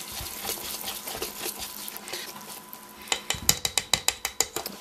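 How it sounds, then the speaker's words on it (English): A whisk beats waffle batter in a bowl, a fast run of sharp, rhythmic clicking strokes close by that grows louder toward the end over faint background hiss. "gotta get a little help from the whisk now"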